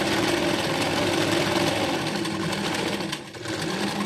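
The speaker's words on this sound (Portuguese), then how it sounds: "faço aqui o retrocesso e passo a costurinha" A sewing machine runs a continuous close, loud stitching whir while backstitching a seam on a child's dress, with a brief dip near the end, no voices.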